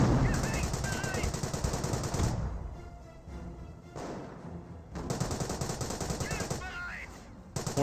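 Gunfire striking a motor half-track in the World War II strategy game Company of Heroes, dense rattling machine-gun bursts with brief lulls between volleys, loud and continuous, with a voice speaking over the battle.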